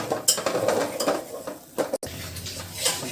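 Maida batter stirred in a pan with a utensil, giving a steady, close scraping and clinking, with a faint sizzle underneath and a brief pause partway through.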